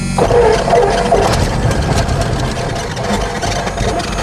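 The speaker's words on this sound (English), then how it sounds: "we'll go ahead and turn the key to start the engine" A small propeller airplane engine is cranked with the key and catches, giving a loud, steady rumbling drone with rough vibration close by, and no talk over it.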